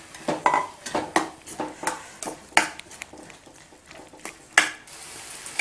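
A spoon scrapes and clinks against a metal pot while ground coconut paste is mixed into cooked beetroot for a Tamil beetroot poriyal; irregular close taps and scrapes, no talk.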